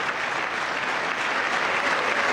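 Applause at the 2026 State of the Union fills a large chamber, a dense, steady wash of clapping from a big audience holding an even level throughout.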